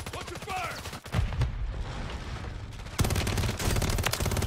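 Rapid automatic gunfire and bursts of shots from a Call of Duty match, loud and close, broken by a short lull before firing resumes; a voice speaks briefly among the shots.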